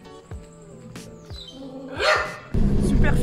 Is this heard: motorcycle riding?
no